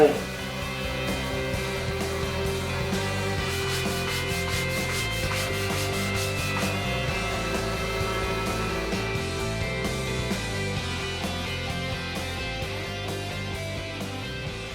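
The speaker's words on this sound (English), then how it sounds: "So much sanding." Close, continuous rubbing and scraping of sandpaper on wooden piano parts, with steady strokes carrying on for the whole stretch under a rhythmic musical backdrop.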